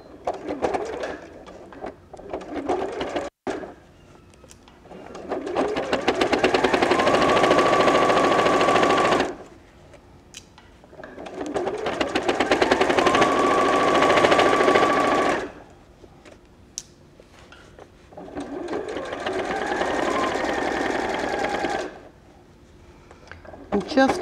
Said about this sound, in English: I'm going to sew this seam